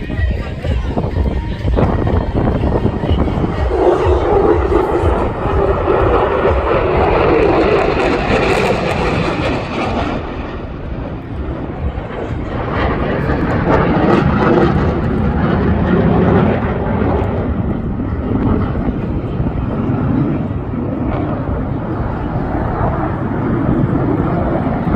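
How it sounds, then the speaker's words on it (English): A fast airplane at the Jones Beach airshow roars loudly overhead, a sustained engine rush that swells and shifts as it passes, with spectators talking beneath it. "Watch this plane."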